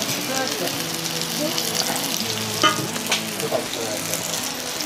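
Beef patties fry in a pan, a steady broadband sizzle with a few brief spits and pops, close and moderately loud, with faint voice-like tones in the background.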